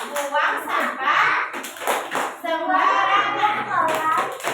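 Children take part in a rhythmic clapping game in a classroom, bursts of hand claps and taps mixed with kids' chanting voices and an adult leading, the group singing continuously over the claps at close range.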